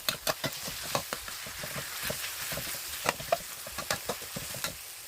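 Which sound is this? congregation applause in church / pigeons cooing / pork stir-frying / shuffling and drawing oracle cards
pork stir-frying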